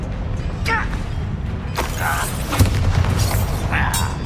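Bombarda spell in Hogwarts Legacy, a sharp blast burst around the middle followed by rumbling and crackling debris, mixed with spell whooshes and brief voice fragments during a battle.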